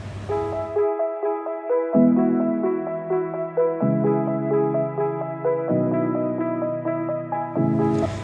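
A bright synthesizer arpeggio ripples in quick repeating notes over shifting sustained chords, steady and fairly loud, with no voices.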